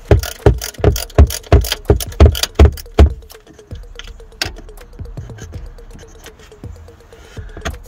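A ratchet clicks rapidly and loudly in regular bursts while loosening an 8mm bolt holding plastic trim on a BMW E60, then slows into quieter, sparser clicks as the bolt frees.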